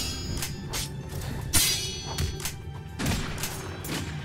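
The Shadow Gun ability in the video game Deepwoken fires as a rapid series of sharp thumping blasts, spaced irregularly over about four seconds above a continuous game rumble.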